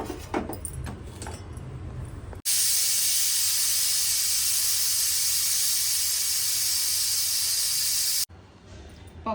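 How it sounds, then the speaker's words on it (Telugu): A pressure cooker cooking dal with raw mango lets off one long, loud steam whistle, a sharp hissing blast lasting about six seconds that cuts in and stops abruptly amid quieter kitchen noise. "ఇది ఒక 5 విజిల్ వచ్చే వరకు పెట్టుకోవాలి పప్పు."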